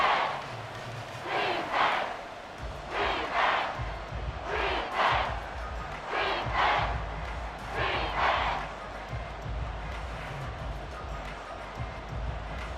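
Stadium crowd in the Madden NFL 24 football game roaring during a tense final two minutes of the fourth quarter, loud swelling cheers in repeated waves, with no commentary over them.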